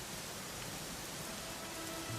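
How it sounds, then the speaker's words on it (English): Steady rain falls in a video game setting, a dense even hiss of drops with no pauses and no talk. "it was raining like this the last time I ever saw her"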